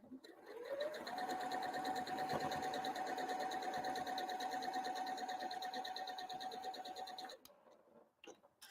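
A sewing machine stitches quilt seams in one continuous, fast whirring run of about seven seconds, motor hum steady and close, stopping abruptly before a couple of small clicks.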